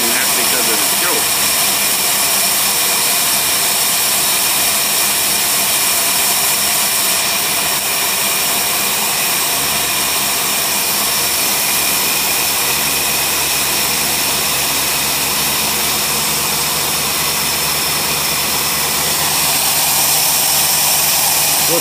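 Engine with a Holley race carburetor running rich on choke, a loud steady roar with a high-pitched whine throughout, close and unbroken.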